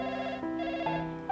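A telephone ringtone plays a steady electronic melody of sustained tones that shift in pitch, loud and close, with no voices over it.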